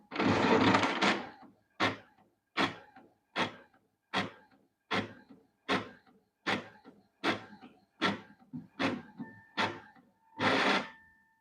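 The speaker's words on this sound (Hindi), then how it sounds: "अब मैं इसका आपको प्रिंट निकाल करके दिखाता हूँ।" An Epson L380 inkjet printer runs a print job nearby: an opening burst of mechanism noise, then a steady series of about a dozen evenly spaced short whirring line passes, ending with a longer feed-out whir, all without talk.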